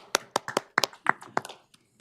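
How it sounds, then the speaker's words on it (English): A person claps their hands in a quick, uneven burst of about a dozen sharp, close claps during a board of commissioners meeting, trailing off into a couple of softer final claps. "Can I clap? I'm gonna clap."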